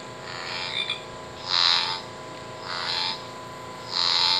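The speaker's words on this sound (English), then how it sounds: "American bullfrog." A Wild Republic Audubon toy plays an American bullfrog call through its small speaker, several loud, buzzy croaking bursts in an uneven rhythm, close and alone.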